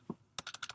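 Keys click on a computer keyboard as code is typed, a quick burst of five faint, close taps after a single soft knock.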